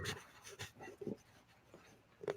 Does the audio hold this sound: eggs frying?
no